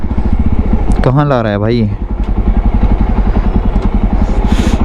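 Jawa Bobber 42 motorcycle engine riding in 4th gear at low speed, a steady thumping exhaust pulse with slight jerking, under a man's brief speech.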